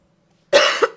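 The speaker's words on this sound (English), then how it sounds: "I do apologize for the coughing." A single harsh cough bursts out after half a second of silence, close and loud, with a second smaller rasping push near the end, from a man recovering from a bad illness.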